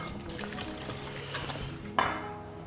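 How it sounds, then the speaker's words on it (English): Lemon juice and olive oil whisked in a bowl for a broccolini dish: a quick, busy stirring and swishing texture up close with a brief clink near the end, no voices. "pick all of that up into your bowl with your lemon juice and your olive oil. Bring that back to you, give that a good whisk"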